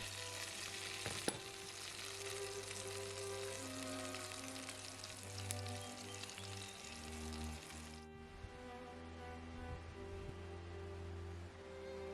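Chicken pieces pan-frying for poulet sauté chasseur give a steady, close sizzle that runs the whole stretch. A faint hum sits underneath, and a few stirring knocks come through.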